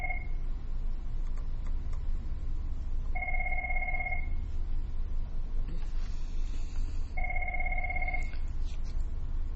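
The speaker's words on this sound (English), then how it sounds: "I'm going to ignore the phone ringing." A landline telephone rings twice, about five seconds apart, each ring a steady dual-tone chirp lasting roughly a second over a constant low room rumble, with no talk over it.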